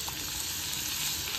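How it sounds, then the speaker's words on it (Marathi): Garlic sizzling steadily in hot oil in a pan, a continuous dense crackling hiss at close range with no voices. "आता मी तेलामध्ये लसूण टाकलं आहे."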